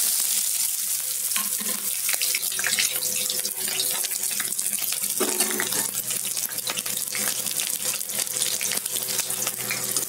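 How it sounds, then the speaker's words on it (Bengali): Chopped onions frying in hot oil in a wok, giving a steady bright sizzle and crackle that stays loud and close throughout, with some clinks of stirring and no talking. "কড়াই তেলটা গরম হয়ে গেছে, এবার আমি কুচানো পেঁয়াজগুলো দিয়ে দেব।"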